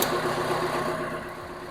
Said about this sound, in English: Engine running, so I'm going to now push the joystick forward